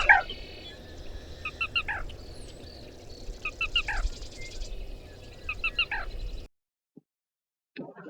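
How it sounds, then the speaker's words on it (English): A small marsh bird gives a sharp, repeated call in a steady pattern three times over a soft background hiss, then everything goes quiet. "the black rail produces its distinctive call."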